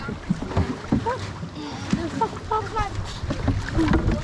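Canoe paddling on the Kaministiquia River during a Keeshigun celebration, with rhythmic paddle splashes and water sloshing close by, wind buffeting the microphone, and people talking faintly in the background.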